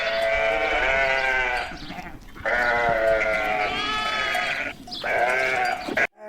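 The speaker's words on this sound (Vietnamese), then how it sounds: "Sheep." Sheep bleating in three drawn-out, quavering calls separated by short breaths, loud and near, with no talking.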